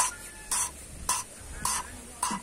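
An engine valve is lapped against its seat by hand, giving short, gritty scraping strokes that repeat about twice a second in an even rhythm. The sound is close and moderately loud, with no voices.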